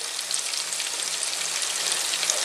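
Finely minced garlic hitting hot oil in a pan for spaghetti aglio e olio, giving a steady, close, bright sizzle and crackle that holds evenly from start to finish with no voices.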